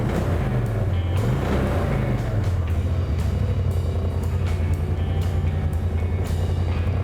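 A Polaris RZR side-by-side engine running steadily at close range, a constant low rumble with its pitch rising and falling briefly as it is revved a little.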